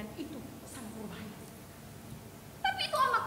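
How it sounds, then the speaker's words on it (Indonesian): A wild cat's mating yowl used as a stage sound effect in an Indonesian theater performance, faint drawn-out cries under quiet talk and room noise, ending in a brief sharper burst. "Itu suara kucing hutan kawin."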